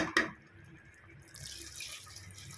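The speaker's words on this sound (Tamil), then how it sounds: "நம்மளுக்கு இந்த தண்ணி பத்தாது இன்னும் தேவையான தண்ணி சேர்த்துக்கணும்" A brief clatter opens, then water pours in a steady close stream into a pot of mutton curry, growing louder toward the end.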